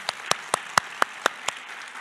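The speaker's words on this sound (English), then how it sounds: "How about one more round of applause for Dr. Dibinga?" A sparse patter of hand claps from an audience after a keynote address, about seven evenly spaced sharp claps over a faint background, fairly close, with no voices.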